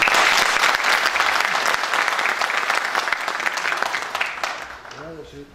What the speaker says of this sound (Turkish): Onun için de ayrıca bir Seyit Nizam'a kuvvetli alkış istiyorum.